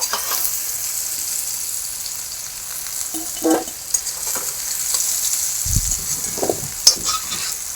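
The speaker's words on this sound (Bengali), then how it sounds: "সবজিগুলো ভাজি, সবজিগুলো ভাজা হয়ে গেছে, নামিয়ে নেব" Vegetables fry in a pan for khichuri with a steady, close sizzle and hiss, broken by a few soft clinks and stirring knocks; no one speaks.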